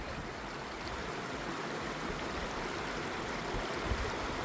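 Roaring river rapids at a hiking river crossing, a loud steady broadband rush of water filling the whole moment with no break.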